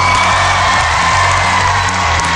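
A television talent show crowd in a studio cheers and claps loudly and continuously after a live band performance, a dense wash of noise throughout.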